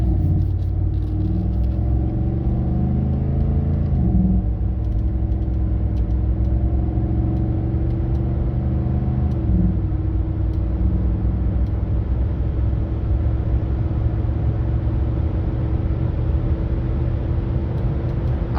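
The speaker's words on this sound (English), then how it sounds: "So I'm gonna lay into the gas right here and get a good speed going." A 2014 Ford F-150 Lariat 4WD accelerates under moderate throttle, heard from inside as a loud, steady engine rumble with gear-shift drops and rising tones, going on for nearly twenty seconds.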